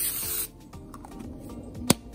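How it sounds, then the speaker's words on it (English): A glass bowl being sprayed down for a salt dough craft: a short hissing burst of spray at the start, then quiet handling noises and a sharp tap near the end. "we're gonna spray down our glass bowl before we put it on"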